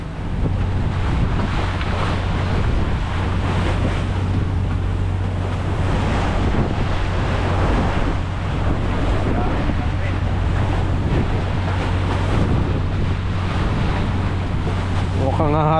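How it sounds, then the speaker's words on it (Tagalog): Waves surge and splash around a moving boat on the Pacific Ocean, with steady engine drone and gusty wind buffeting the microphone throughout. "hampas ang alon"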